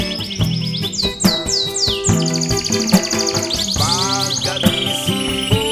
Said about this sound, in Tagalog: Pagkagising mo sa umaga'y maririnig mga ibon umawi.